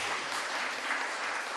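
Congregation applauding during a Sunday church worship service, a steady dense wash of clapping throughout with no gaps, moderately loud.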